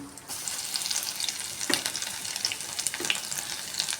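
Mustard seeds, cumin and crushed garlic fry in hot oil, giving a close, bright sizzle with scattered crackling pops and a few stirring clinks throughout.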